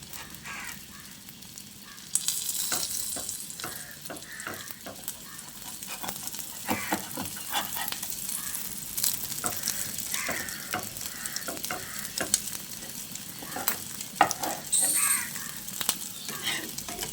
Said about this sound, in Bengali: এবার আমি অমলেটগুলোকে এইভাবে খুন্তি দিয়ে কেটে নিচ্ছি।